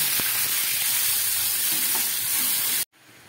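Poppy seed paste in a hot pan, where water is being added for a bora posto curry, hisses in a loud, steady sizzle with a few stirring clicks before cutting off abruptly near the end.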